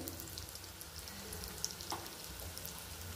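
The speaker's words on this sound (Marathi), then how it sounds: "तुम्ही पाहिलं का तेल बरंच गरम आहे अजून सुद्धा, त्याच्यामुळे हिंग लगेच फुलं गेले" Asafoetida sizzles in hot oil for an instant carrot pickle, a soft, faint, steady frying hiss with a couple of tiny pops.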